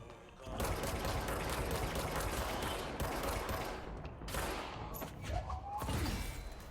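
Rapid gunfire from shooting in the video game Control, a dense stream of close shots that runs for several seconds with brief gaps and a few distinct cracks toward the end.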